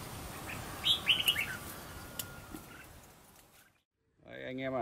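A decoy bird in the hills of Mù Cang Chải, Yên Bái, gives a quick cluster of bright chirps against a quiet outdoor background. A voice briefly starts up near the end.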